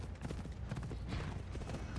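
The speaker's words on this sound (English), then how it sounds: "need to take this horse either to Adonis or to the stable boy." Horse hooves clip-clopping in the video game Assassin's Creed Odyssey, a steady run of close, fairly loud hoof beats over a busy game background with no talk.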